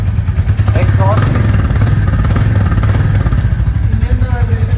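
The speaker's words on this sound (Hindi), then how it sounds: "जो बाइक का साइलेंसर वाला थंप है वो एनफील्ड ने अपना वैसा ही रखा है" A Royal Enfield Classic 350 motorcycle exhaust thumps in a steady low rhythm, loud and close, with a voice talking over it.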